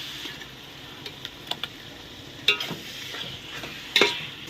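Ginger garlic paste sautéing with mutton and masala in a pan for mutton biryani, a soft steady sizzle broken by several sharp spatula clinks and scrapes against the pan.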